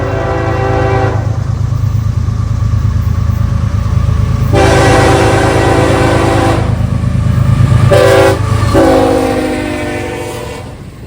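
CSX Intermodal IO-48, a freight train led by locomotive CSX 1900, passes the Rings Road railroad crossing in Amlin, Ohio. The horn blasts loudly in several long and short bursts over a steady, close rumble of the passing train.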